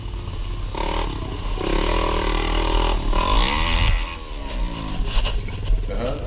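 An ATV engine on a forest ride, loud and close, revving up and down with shifting pitch, rattling clatter and scraping over rough ground.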